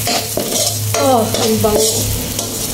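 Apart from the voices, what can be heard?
garlic frying in butter on low heat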